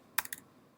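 Three quick, faint clicks come from keys being pressed on a computer keyboard.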